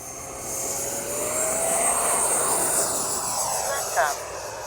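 A Freewing Avanti S V2 RC jet plane, running on a 5,000 battery, flies overhead with a steady electric ducted-fan whine and rising and falling pitch shifts as it passes, heard continuously at moderate distance.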